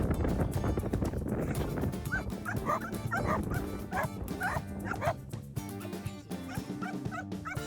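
Herding dogs at an estancia kennel in Tierra del Fuego, Argentina, several barking and yipping in quick overlapping bursts, close and lively with some whimpering, no talk.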